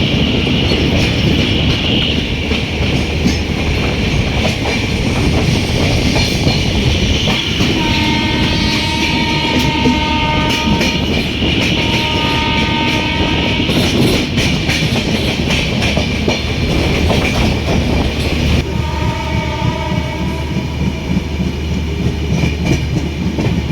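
Trains running near Delhi, heard from aboard the Lucknow–New Delhi AC Superfast in heavy fog: a loud continuous rail roar and clatter with several long horn blasts sounding over it, no voices.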